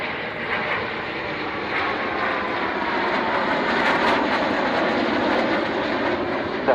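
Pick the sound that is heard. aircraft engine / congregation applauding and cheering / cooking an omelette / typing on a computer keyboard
aircraft engine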